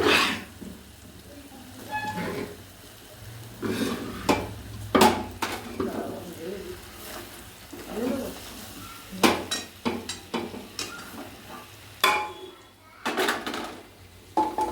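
Metal utensils scrape and clank against cookware in a series of irregular knocks and scoops, with quiet rustling in between, as mutton is moved from a kadai into a pressure cooker.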